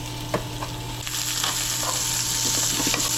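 Chopped vegetables go into about five spoonfuls of cooking oil in a hot pan for Chinese-style stir-fried potato strips, sizzling steadily with light stirring scrapes, growing louder and denser after a second, close with no talking.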